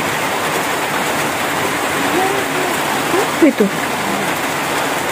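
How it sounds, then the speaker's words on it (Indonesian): Light drizzle falls steadily outdoors, a soft even hiss of rain throughout, with a brief spoken word in the middle. "kan hujan, iya gerimis loh"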